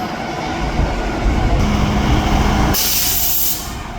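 A Vande Bharat train at a railway station: a steady broadband rumble and hiss of rolling stock, with a sharp burst of air-brake hiss partway through, close and fairly loud, no voices.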